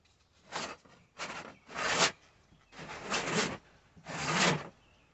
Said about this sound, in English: I'm just going to wipe down and clean everywhere that these washers and other things are going to touch